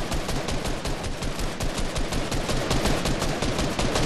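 Dense, rapid gunfire from a shooting video game, loud and continuous like sustained automatic fire, with no talking.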